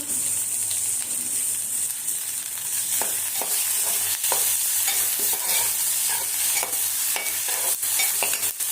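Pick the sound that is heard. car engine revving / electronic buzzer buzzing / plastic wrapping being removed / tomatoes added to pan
tomatoes added to pan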